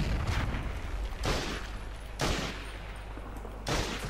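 Heavy machine gun fire in a Medal of Honor war game, sustained rattling bursts with several loud booming impacts spaced a second or so apart, no talk.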